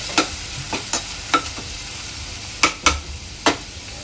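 Chopped garlic and onion frying in a pan, heard as a low steady sizzle broken by about seven sharp spatula scrapes and clacks at an uneven rhythm, close and fairly loud with no talking.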